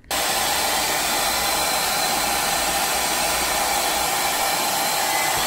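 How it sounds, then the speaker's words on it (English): A hair dryer switches on and blows with a loud, steady whoosh that holds constant throughout, close by and uninterrupted. "Did the hairdryer help with Godzilla?"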